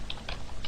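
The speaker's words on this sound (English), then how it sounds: "let's go ahead and just type it anyway" Light keystrokes on a computer keyboard as a web address is typed, three or four soft, quick taps close by in a brief burst.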